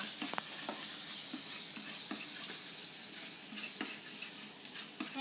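Panang sauce stirred in a pan as it cooks, a soft continuous sizzle with light, regular scraping strokes of the utensil, close and quiet with no voice.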